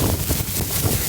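Blizzard wind gusting hard against a Mont Supercell winter tent, a steady close roar of buffeting with dull low-end surges, no talking.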